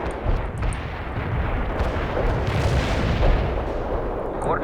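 An artillery barrage fires in the video game World in Conflict, a dense rolling rumble of overlapping distant booms that goes on for a few seconds without a break.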